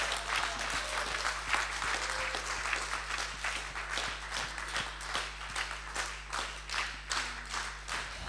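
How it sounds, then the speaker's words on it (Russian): A congregation applauds during a church service, with rhythmic clapping that settles into a steady beat over a constant low hum. It is moderately loud and keeps going for several seconds. "Раздайте ему аплодисменты."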